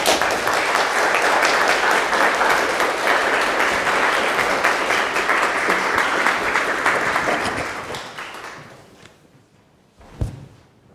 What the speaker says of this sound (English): Just stand there and give him a round of applause.